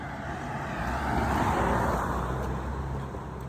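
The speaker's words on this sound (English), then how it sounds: "Got a car coming." A car passes by on the road, its broadband swell rising gently to a peak in the middle and then fading away, with no talking over it.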